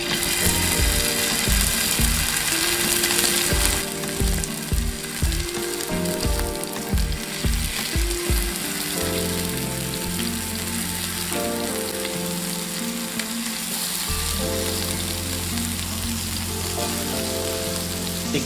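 Spicy chicken kabab patties sizzle on a hot tawa, a loud continuous frying hiss under irregular clicks and clatters as the pieces are set down one by one.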